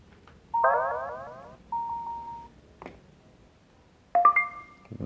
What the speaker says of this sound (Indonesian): Terus ada bunyi beep kayak tininit.